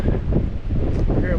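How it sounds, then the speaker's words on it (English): Strong wind whips across Woody Gap, a mountain gap on the Appalachian Trail, a brief rushing gust buffeting close to the microphone as someone speaks. "Man, that wind is whipping."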